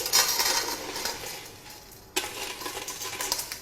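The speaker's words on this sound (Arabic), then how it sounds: "تعالوا بقى نفضي كده الازاز بالراحه كده خالص" Crushed glass is emptied out of a Raffal blender jar with a gritty scraping and rattling clatter in two bursts, separated by a brief lull.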